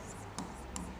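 Brief strokes of writing on a board sound close and quiet, two short scratchy marks in about a second against a faint room background.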